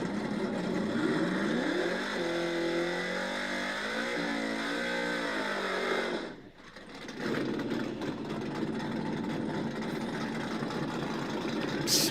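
A Ford Mustang race car at a no-prep drag race revs and accelerates with rising engine pitch, then a brief dip and quieter stretch before the engine roars back, heard at moderate distance.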